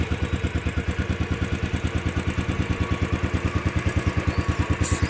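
A Royal Enfield Classic 500 ABS motorcycle engine idles with a steady, evenly spaced thumping beat, close and moderately loud, with no voices.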